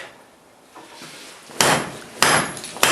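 Hammer blows land on a hot 3/4 inch square steel bar while forging bolt jaw tongs, three loud sharp ringing strikes spaced about half a second apart after quieter scraping and handling.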